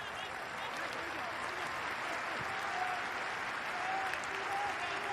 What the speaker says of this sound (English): Good applause from the supporters for that attacking action.